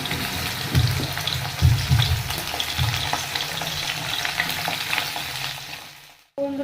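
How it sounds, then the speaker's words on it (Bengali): Potato and onion pieces dropped one by one into hot oil in a wok set off loud bursts of sizzling. A steady fry follows, fading gradually before stopping abruptly. "এবার আমি আলু আর পেঁয়াজটা একে একে ছেড়ে দেবো।"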